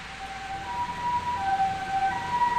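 An ambulance siren sounds in the Japanese horror video game Corpse Party: Book of Shadows, a thin wailing tone shifting pitch over a low background hum, moderately faint and without talk.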